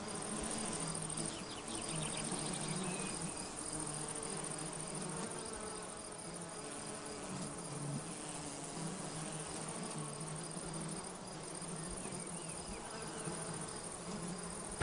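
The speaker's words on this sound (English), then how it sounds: "The fields buzz with nectar-sipping insects." Insects buzzing over blooming lavender fields in Provence: a dense, continuous drone of bees, flies and crickets, steady and enveloping for the whole stretch, with no voices.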